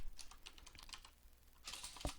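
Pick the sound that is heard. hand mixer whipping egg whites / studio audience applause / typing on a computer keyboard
typing on a computer keyboard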